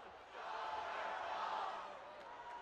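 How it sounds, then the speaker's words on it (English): Hockey arena crowd at a Jacksonville Icemen versus Greenville Swamp Rabbits game chanting together in unison, a loud, sustained massed roar of voices that swells and then eases slightly. "they were in sync better than they have all season long, I think, for that chant"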